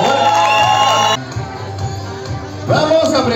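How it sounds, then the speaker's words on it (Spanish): Audience at a Miss Gay Venezuela pageant in Viña cheers, whoops and shouts for the eight contestants, loud at first, dipping to a rougher murmur midway, then rising again. "Un fuerte aplauso a este cuadro de 8, por favor."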